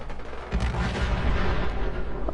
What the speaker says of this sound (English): Oh boy, that sounded like a big explosion.